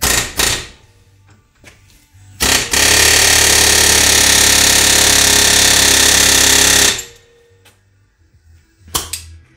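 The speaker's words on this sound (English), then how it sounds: "More air hammer action, Jackson." A loud, sustained burst of pneumatic air hammering lasting several seconds, on a rusty strut of a Nissan Frontier pickup, with short rattling bursts before and after and quiet gaps between.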